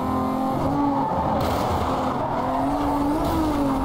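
A race car in Need for Speed Most Wanted roars at high revs while its tires squeal in long rising and falling skids, loud and continuous with no pauses.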